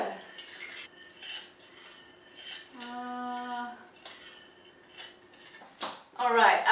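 A spoon scrapes and clinks against a pot while chocolate pudding is stirred, soft rhythmic rubbing with occasional metallic taps, with a brief tonal hum in the middle.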